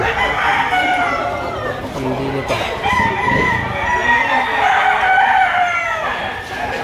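Roosters at a gamefowl market in Lipa, Batangas, crowing and clucking in a dense, busy chorus close by, layered with scattered calls from many birds, with a man's brief speech mixed in.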